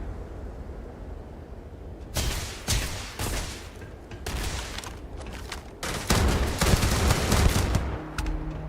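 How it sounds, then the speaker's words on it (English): Enemy gunfire in the Starfield video game starts after a quiet ambient stretch and comes as loud bursts of rapid shots in several volleys, growing heavier toward the end. "they're shooting at us on sight"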